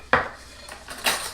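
A teaspoon of salt added to a bowl of pickles for freezer pickles, heard as a sharp metal spoon clink and scrape against a dish, then a second softer clatter a moment later, close and without talk.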